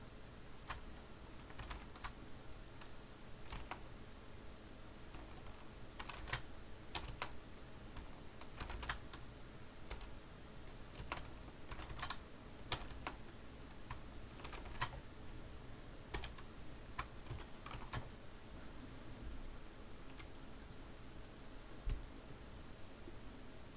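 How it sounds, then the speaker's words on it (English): Steady typing on a computer keyboard, a quick irregular run of clicks with occasional sharper taps, close by, against faint background hiss. "I start typing state abbreviations"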